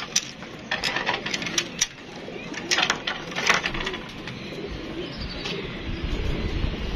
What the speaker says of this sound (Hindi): ये हमने उड़ा दिए हैं कबूतर, एक हमारा रह गया इधर ही